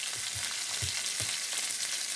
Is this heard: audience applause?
no